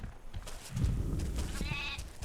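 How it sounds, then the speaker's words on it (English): Desert sheep bleat in the video game Overlord, a short wavering animal cry rising near the end over a low rumbling game background. "They're escorting sheep."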